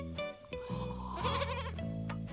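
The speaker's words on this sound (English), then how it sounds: "Useful animals, goats, Jim." A goat bleats in a short wavering call, close and fairly clear, with a second bleat overlapping; no talk over it.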